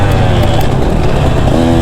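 KTM 150 SX two-stroke dirt bike ridden on dry, slick dusty ground, its engine buzzing loud and close in a continuous rev with slight pitch changes.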